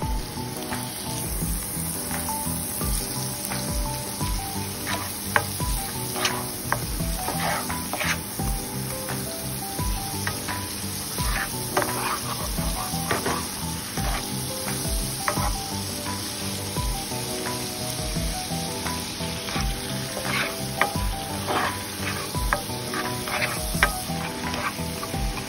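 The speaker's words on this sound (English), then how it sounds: "Continue mixing the chopped garlic till it turns to light brown. Then add the butter and melt it on the low heat setting." Chopped garlic and butter sizzle steadily in a pan on low heat, with a continuous frying hiss and repeated scraping clicks of stirring throughout, close and fairly loud, no talking.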